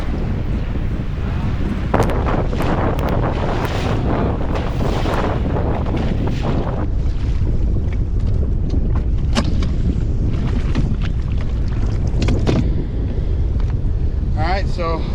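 Strong wind buffets the microphone on a lake at the Forebay, a steady loud roar with gusts and water wash, while people talk over it from a fishing boat.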